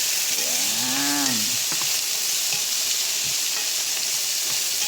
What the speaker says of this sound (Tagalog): Kinix ko na yung carrot sa onion. Yan, nagisa-gisa na lang din hanggang maluto yung carrot.